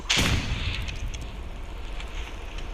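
A grenade blows up in the Roblox game Rivals: one sharp, loud blast right at the start, trailing into a dense, rumbling noise bed that carries on for the rest of the moment.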